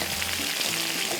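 Bottle gourd (lauki) pieces fry in a pan, giving a steady, even hiss of sizzling oil, close and moderately quiet, with no stirring accents.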